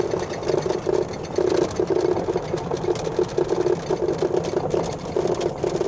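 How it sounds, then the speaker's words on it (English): A large electric golf cart from Tractor Supply pulls away with a loud, close motor drone that pulses in a quick, rattly rhythm, steady from start to finish. "hit drive, hit the gas pedal or electric pedal, and off we go"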